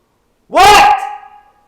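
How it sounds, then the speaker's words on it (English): A single loud, close dog bark rings out sharply on its own, trailing into a brief whining tail before silence. "Are you just barking at the puppy?"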